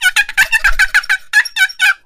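A wooden box call, worked by hand outdoors, imitates a turkey gobble as a fast rattling burst of about a dozen sharp, loud strokes over two seconds, heard up close with no talking.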